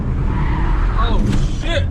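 A Skoda Kamiq SUV launching with traction control off, tires squealing briefly and sharply over the engine noise in the second half of a short burst, close by, with voices in the car.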